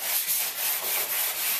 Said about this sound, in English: you're going to want to hit them with the sanding sponge real quickly